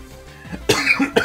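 A man during a Pokemon game session coughs hard: a few short, harsh coughs in quick succession, close and loud, with no speech.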